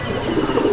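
Old Line Madrasi pigeon in a loft in Rajarhat, Kolkata, giving a short, close, low throaty coo that swells slightly over under a second.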